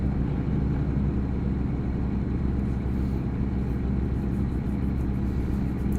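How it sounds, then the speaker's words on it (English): A truck engine labors and drones steadily uphill in a trucking video game, a dense, loud, unbroken low rumble with no pauses and no talk. "Listen to that little engine struggle."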